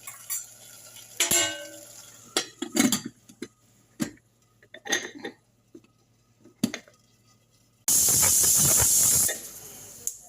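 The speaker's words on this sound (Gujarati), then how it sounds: "આપણે કુકર બંધ કરી અને 1 સીટી થવા દઈએ" A kitchen pressure cooker, shut while cooking potatoes in a buttermilk dish, gives one loud, close hissing whistle of escaping steam for about a second and a half after scattered clinks and knocks of utensils.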